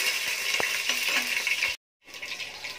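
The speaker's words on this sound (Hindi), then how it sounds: "अभी इसको थोड़ा सा फ्राई होने दें" Sambar onions frying in a pan for rasam crackle and sizzle steadily, with a few sharp clinks of a stirring utensil, then a brief silent gap before the frying resumes; no one speaks.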